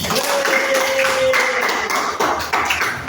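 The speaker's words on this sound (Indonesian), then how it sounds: "Tepuk tangan kita semua." A classroom group claps together for several seconds, a busy patter of hands that stays fairly loud and steady throughout, with a faint tone running beneath it in the first half.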